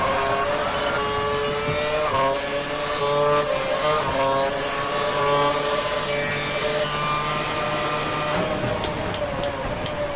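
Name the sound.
Formula 1 cars racing, Ferrari crashing, in Xbox video game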